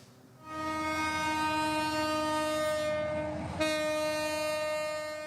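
A passenger train on the Chittagong–Cox's Bazar line sounds its horn in one long, loud, steady blast that breaks briefly and resumes, over a low rumble of the moving train.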